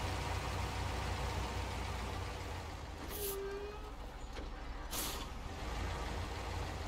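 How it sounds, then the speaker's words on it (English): Truck air brakes in the SnowRunner video game hiss in a long steady rush with a faint engine rumble beneath, crossed by two short bright bursts of release. "sound effect for the brakes that's not quite working."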